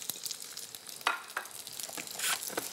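Ginger and fresh garlic hit very hot olive oil in a wok, crackling and sizzling in irregular bursts as they are stirred, close and clear with no talk.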